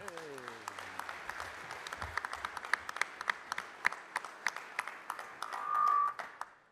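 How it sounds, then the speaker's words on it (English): Audience applause rises and continues for a keynote speaker, the Sergeant Major of the Army, at the AUSA Warfighter Summit and Exposition, steady distant clapping with scattered louder individual claps and a brief whistle-like tone near the end. "please join me in a round of applause for our guest speaker"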